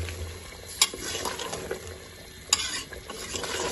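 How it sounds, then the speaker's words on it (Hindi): Mutton karahi sizzles and fries in a pan while it is stirred, giving a continuous crackle with a couple of sharp scraping clanks from the utensil and no speech. "इसकी अब करेंगे 7 से 8 मिनट अच्छी तरह बुनाई"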